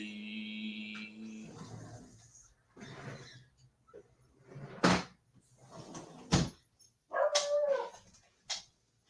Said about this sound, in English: he's barking, but I'll leave him outside